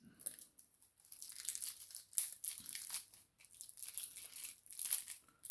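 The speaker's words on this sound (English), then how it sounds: "Oh, they really wrapped it up tight. Okay, once you're through the Fort Knox style packaging" Plastic shrink-wrap on a Modern Horizons 3 Commander deck being cut and torn open, with close, loud bursts of crinkling and ripping that come in repeated waves and never settle.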